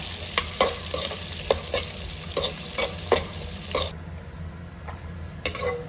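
Raisins frying in oil in a pan, bright crackling sizzle with a rapid series of spoon-against-pan stirring scrapes close up, then the sizzle softens and only occasional stirs remain; no voices.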